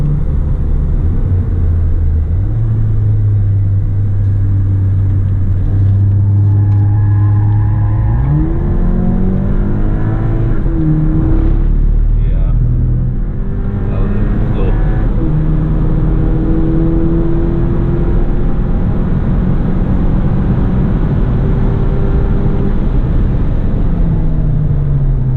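An RS245 car laps the Buddh International Circuit on a track day, its engine loud and close, droning then climbing steadily in pitch through the gears, with a constant roar of road and wind noise.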